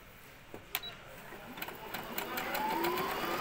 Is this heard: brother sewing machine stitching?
yes